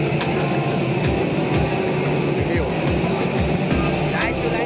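A steady, loud engine roar from an international flight between Nepal and India drones on without a break, with faint voices mixed into the background.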